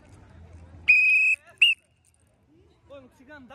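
A sharp, high referee whistle blast at a football match, followed by a second short toot, with murmuring voices and scattered noise around it.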